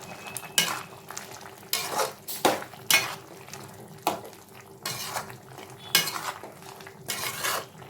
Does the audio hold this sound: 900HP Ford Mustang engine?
no